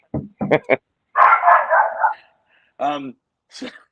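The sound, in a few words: dogs barking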